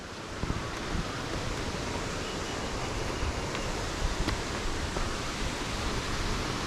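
Broad steady rush of Ramboda Falls in Sri Lanka pouring down a hillside, a continuous wash of water roar holding an even level from start to end with no voices.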